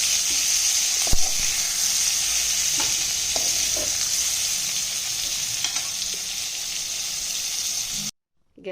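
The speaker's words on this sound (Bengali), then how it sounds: "আমার পটলটা দেখুন খুব সুন্দর ভাজা হয়ে গেছে।" Pointed gourd (parwal) pieces fry in oil in a pan, a continuous close sizzle with occasional scraping knocks of stirring before the sound cuts off at the end.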